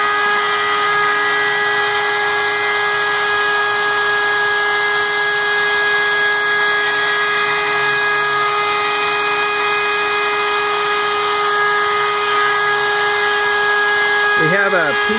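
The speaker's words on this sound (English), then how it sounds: "The feed rate is the speed at which the cutter goes through the wood." A CNC router spindle whines loudly and steadily while cutting a quarter-inch plywood test piece, a continuous high-pitched drone that holds for the whole stretch.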